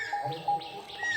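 Birds give a few thin whistles and short chirps near a village path among bamboo groves, faint and scattered over a soft outdoor background.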